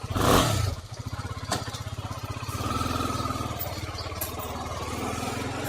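A motorcycle engine runs close by with a steady, throbbing rumble that rises and settles slightly, starting with a brief louder burst and continuing without speech.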